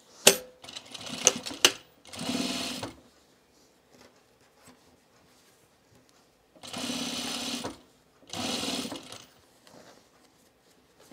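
A domestic sewing machine stitches a blouse collar in short bursts, with a few quick runs and clicks at the start, then two longer even whirring runs later separated by quiet handling sounds, close and clear with no talk.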